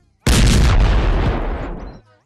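A cartoon cannon goes off in one loud, close blast that booms and rumbles for nearly two seconds before cutting off abruptly.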